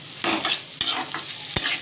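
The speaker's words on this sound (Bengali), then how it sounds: "ভালো করে নেড়ে চেড়ে নেব" Salt, chili powder and sugar are stirred in a pan while frying fish roe bhujia, with a handful of short scraping strokes against a soft sizzle, close and clear with no talk.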